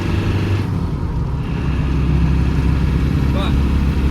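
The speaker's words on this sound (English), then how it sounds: "So you can definitely hear the engine" Diesel engine of a 1992 Land Rover Defender 110 200Tdi station wagon droning steadily while driving, heard from inside the cabin with almost no soundproofing, a loud low rumble with a faint squeak near the end.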